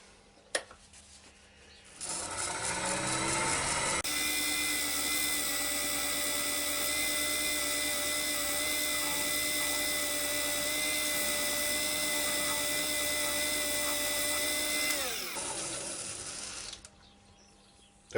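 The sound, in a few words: wood lathe spinning ash bowl buffed with kitchen towel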